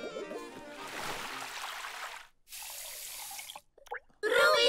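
Cartoon water gushes out of a tap in a children's animated show, a sustained hissing rush broken by short gaps and drips, with a bright splashy burst at the end.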